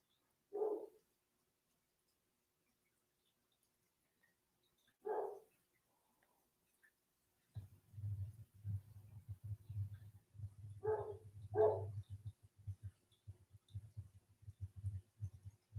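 A dog named in the household barks in short separate bursts, two isolated barks then a pair later, fairly close, over a low rumbling background hum in the second half.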